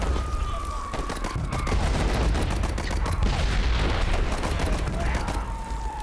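Sustained gunfire from a war video game, with machine-gunner bursts and mortar booms rolling together into a dense, continuous barrage that stays loud for the whole stretch.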